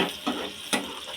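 Water splashing into a hot pan of mushroom gravy in two short bursts, with a faint sizzle between them, close by.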